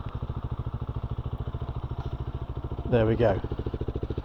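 A BSA 350 Bantam motorcycle engine idles with a steady, even pulsing throb, close and loud throughout, while someone speaks briefly over it near the end.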